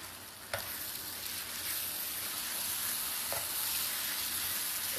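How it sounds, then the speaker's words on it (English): A sauce with honey and brown sugar being stirred in a pot, a steady hissing simmer with a couple of sharp utensil knocks against the pan, close and moderately quiet. "I'm going to stir this in."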